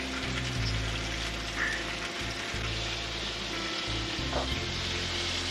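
A burger patty fries in a pan with a continuous loud sizzle and crackle, with no talking over it.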